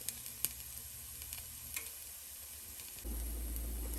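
Bitter gourd slices frying in a pan give a steady, soft sizzle with small crackles and ticks, close by and alone, before a louder, denser hiss takes over near the end.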